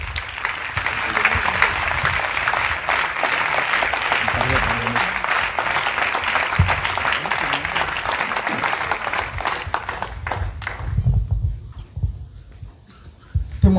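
A church congregation applauds steadily and loudly for several seconds, clapping mixed with crowd noise and a voice, before the applause fades into quieter talk.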